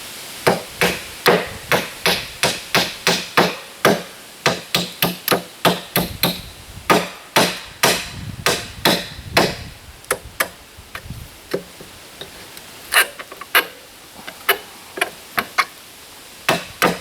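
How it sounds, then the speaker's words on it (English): Steady hammer blows on wood pallet boards, close and sharp, coming in quick runs with short pauses, some strikes ringing louder than others as the boards are knocked apart. "There's the easy way to strip pallet wood with nothing but a hammer"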